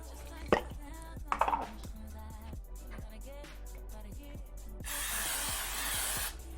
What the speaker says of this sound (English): I'm gonna spray some lovely it's right here. Olive oil pan spray.